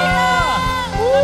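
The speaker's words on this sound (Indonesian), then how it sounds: "Sorak-sorai buat Tuhan." A church congregation at a worship service cheers and shouts praise together, a loud dense wash of overlapping voices with rising whoops, with a rhythmic low thump running beneath.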